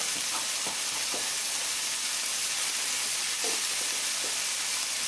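Potato and onions sizzling in a hot pot with curried seim beans, a steady bright frying hiss throughout with a few soft stirring knocks, close and even, with no talk.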